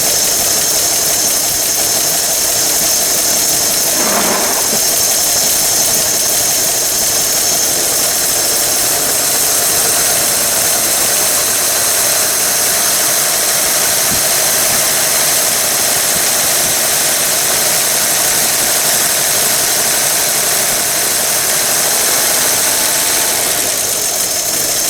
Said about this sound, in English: I'll rev it a bit, see if it's just...